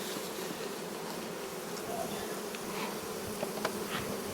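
A steady, dense insect buzz of many honeybees at the hive, including drones, fills the clip at moderate level, with occasional brief closer tones rising above the hum.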